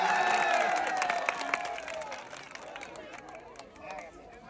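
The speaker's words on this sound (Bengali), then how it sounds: "আমার এই কাকার জন্য সবাই একটা জোরে তালি হবে।" An audience claps and cheers for a prize winner at a village challenge-game event. The applause is loudest at the start and thins out gradually, with crowd chatter mixed in.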